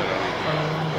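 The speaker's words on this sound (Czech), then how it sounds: "je to anglický cviční letoun v modelářském provedení, maketa" Radio-controlled scale model of a BAe Hawk jet trainer flying at a model aircraft fair, giving a steady, loud engine drone with a sustained tone that holds for the full second.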